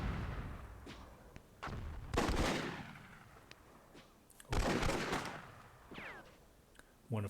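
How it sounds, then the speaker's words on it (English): Two heavy explosive blasts of an RPG barrage in the video game Myth II Soulblighter boom loudly amid scattered smaller shots and low-level background noise. "Overdose withstanding an RPG barrage."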